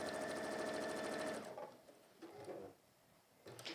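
A sewing machine stitches fabric in a fast, steady mechanical whir for about a second and a half, then stops, leaving quiet handling sounds and small clicks.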